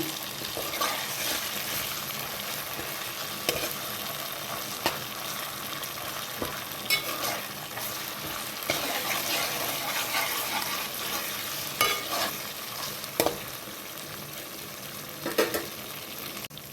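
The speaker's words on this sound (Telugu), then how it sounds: "ఉల్లిపాయలు ఎర్రగా వేగిన తర్వాత అల్లం చిన్న పేస్ట్ వేసుకుందాము" Ginger-garlic paste frying with browned onions for a prawn and gongura curry, a loud continuous sizzle close up with occasional stirring clicks and scrapes, no talking.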